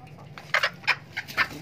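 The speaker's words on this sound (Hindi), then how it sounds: "हमारे मुर्गे भी देख लें" Desi hens and roosters clucking inside a cage, a handful of short squawky calls in quick succession, fairly close over a low background hum.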